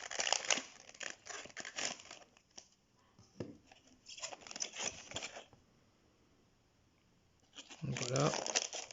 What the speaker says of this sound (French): Il a l'air d'avoir un petit sachet aussi derrière. Donc on va ouvrir ça.